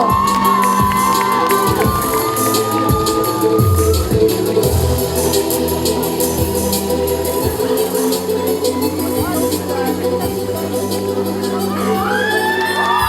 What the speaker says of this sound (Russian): Громкие аплодисменты.